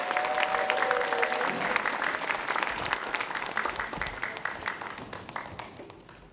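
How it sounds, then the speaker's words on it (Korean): An audience at a career talk concert in Gwangju breaks into warm applause, dense clapping that fills the room and slowly tapers off, with a faint voice at the start. "큰 박수 부탁드립니다"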